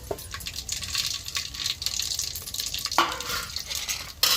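Onions fry in hot oil in a pan for chicken fry biryani, with spoon scrapes and stirring clatter over a soft sizzle, including a couple of sharp metallic knocks.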